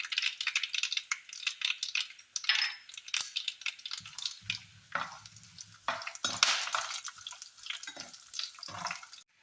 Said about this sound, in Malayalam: ഇവിടെ കടുക് പൊട്ടിയിട്ടുണ്ട്. നമ്മുടെ ഉഴുന്നുപരിപ്പൊന്ന്, ഈ ഉഴുന്നുപരിപ്പൊന്ന് മൂത്ത് വരണം.